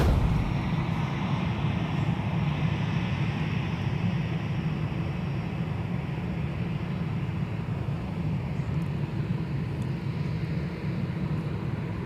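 A Delta Airbus A330-300 jet at MSP airport gives a steady, broad roar of engine noise that stays loud and even for the whole stretch, with no voices over it.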